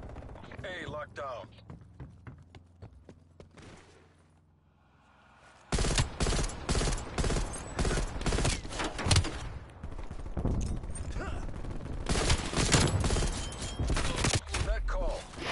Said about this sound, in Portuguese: Estou a mandar tiros, não lhe acerto.